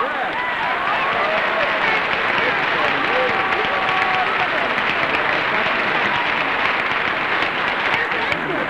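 Steady, dense applause from a television game show studio audience fills the whole stretch at an even, sustained level, with faint voices threaded through it.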